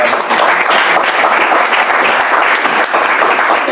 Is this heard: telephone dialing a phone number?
no